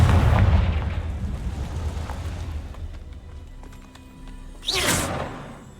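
Loud blasting spell explosions in Hogwarts Legacy inside a dark cave: a heavy boom opens, rumbling off, then a second sharp burst with crackling debris hits near the end, with faint ringing tones between.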